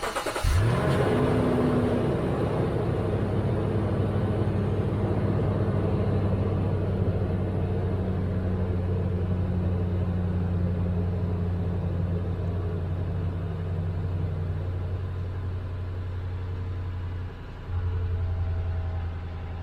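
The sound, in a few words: cold startup of Lexus GX460 engine with stock exhaust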